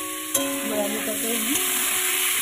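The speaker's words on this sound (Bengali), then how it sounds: "আমি আলুটাকে একটু নাড়াচাড়া করে নিচ্ছি। এইভাবে আর কিছুক্ষণ ভাজবো।" Potatoes sizzle loudly in a pan as they are stirred and turned, a constant frying hiss with brief clinks of the spoon against the pan.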